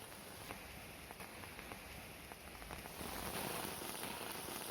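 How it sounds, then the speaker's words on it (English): Heavy rain comes down in a near-solid sheet over a spot under a tree on Gabriola Island, a dense, steady patter and hiss that swells louder partway through. "It is almost a solid sheet of rain coming down"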